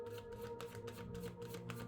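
A deck of cards is shuffled in a quick riffle, soft papery flutter close by and fairly quiet, lasting under two seconds with no speech over it.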